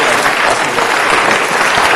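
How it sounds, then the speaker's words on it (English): Sustained, loud applause from an audience at a city council meeting, dense clapping filling the whole stretch without pause. "a round of applause for an extraordinary team"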